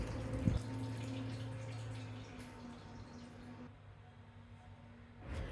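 Water poured into a pan of spinach and black chickpea kootu with ground coconut, a steady close splashing pour that thins out and stops.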